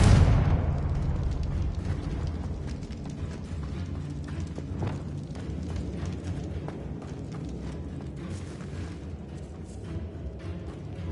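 Bombarda and Confringo blast spells go off in Hogwarts Legacy: a heavy, booming explosion opens, then a long, low rumbling roar decays slowly under a busy scatter of clattering debris and crackles.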